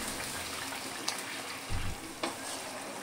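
Potatoes simmering with butter fish curry in a pan give a soft steady bubbling hiss, with a couple of brief utensil clinks and a short low thump partway through.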